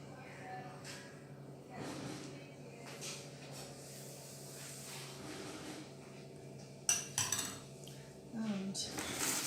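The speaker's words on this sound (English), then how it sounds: "I'm going to just gently scrape it into the tin." A spatula scrapes Victoria sponge cake batter from a bowl into a baking tin, giving soft, intermittent scraping and clinking under a steady kitchen background, with a sharper clatter near the end.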